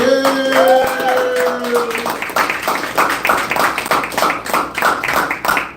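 A comedy-show crowd claps for a comedian, a rhythmic run of distinct hand claps following a voice at the start, moderately close and steady.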